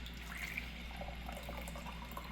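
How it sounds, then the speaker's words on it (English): Hot water pours into a cup in a quiet, steady trickle, with light splashing and faint rising gurgles. A low background hum runs underneath, and no one speaks. "You pour your hot water,"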